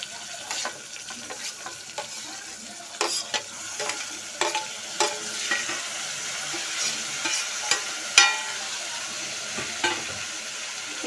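Tomatoes, green chilli and onion frying in a pan are stirred, with a steady sizzle under repeated close scrapes and knocks from the spoon at an uneven rhythm.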